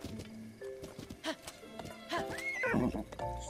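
A horse whinnies in The Legend of Zelda: Breath of the Wild, a rising then wavering neigh near the end of the clip, over game music and clip-clopping hooves.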